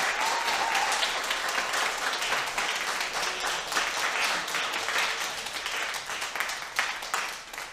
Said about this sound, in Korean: 박수 길이가 좀 길어졌네.